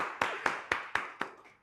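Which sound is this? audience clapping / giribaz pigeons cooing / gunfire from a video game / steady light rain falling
audience clapping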